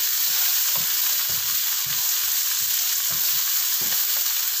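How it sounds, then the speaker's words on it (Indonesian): Red bell pepper stir-frying in a hot pan for a fish dish, a loud, dense, continuous sizzle heard up close, with soft rhythmic scraping as it is stirred, and no one speaking. "Paprika merahnya itu wangi kalau digoreng teman-teman ya, kalau kita tumis."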